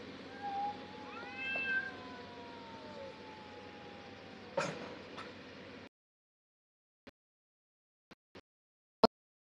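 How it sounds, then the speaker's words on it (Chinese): A cat gives a few drawn-out, wavering meows up close in the opening seconds. Then near-silence follows, broken only by a handful of sharp clicks. "过来，喵喵，喵喵。"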